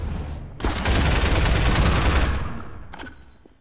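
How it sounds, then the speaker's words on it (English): Enemy gunfire in Half-Life 2 bursts loudly after a brief pause, a dense rattling fusillade for about two seconds that fades out, followed by a couple of sharp single shots. "and they're shooting at me"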